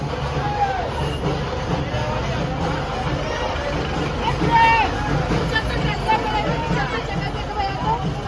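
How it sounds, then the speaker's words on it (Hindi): Dense crowd hubbub at a river ghat during the Chhath festival, many overlapping voices forming a steady loud babble with occasional louder calls, close and continuous. "घाट पर पहुँचने के बाद देखे इतना ज़्यादा भीड़ था"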